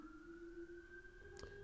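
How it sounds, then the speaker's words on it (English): A police siren wails faintly in the distance as a steady, sustained tone, quiet and alone with no speech over it. "sorry if you can hear that siren in the background"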